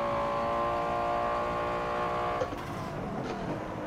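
A Nissan R35 in a racing video game drones with a steady, loud engine note that holds and then shifts pitch partway through, with no talk over it.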